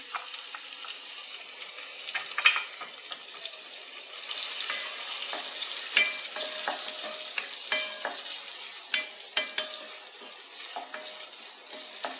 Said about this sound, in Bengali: ছোট করে কাটলে আপনার তাড়াতাড়ি ভাজাটা হয় তো পেঁয়াজ দুইটা দিয়ে দিলাম